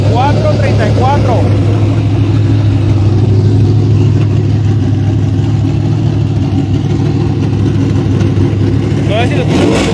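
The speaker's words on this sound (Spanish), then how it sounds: "Ahí está el nuevo motor de 434." A new 434 engine running at a loud, steady idle with a deep rumbling drone, rising in a couple of brief revs at the start and end while someone talks over it.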